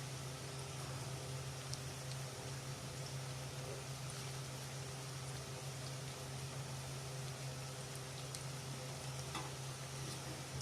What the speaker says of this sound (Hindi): ये तकरीबन 4-5 मिनट हम इनको फ्राई करेंगे